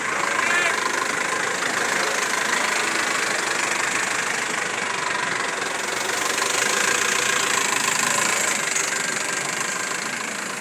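An X-18 model car engine idles with a steady, even mid-pitched rumble and slight knocking, continuous and fairly loud, with talk over it.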